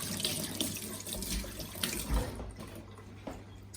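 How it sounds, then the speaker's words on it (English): A kitchen sink tap runs steadily while hands are rinsed under it, a close, continuous splashing rush with small shifts as the hands move through the stream. "Throw this in the sink. Rinse my hands."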